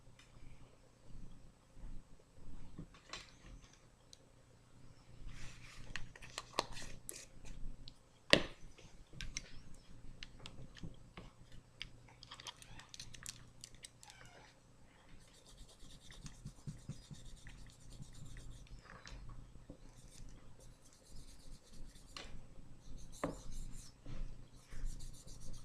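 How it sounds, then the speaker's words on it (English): Fingernails are buffed during a manicure, producing faint, close, irregular rubbing and scratching strokes in short bursts, with one sharp tap partway through. "just enough to be able to give the nails a nice shine while you're buffing."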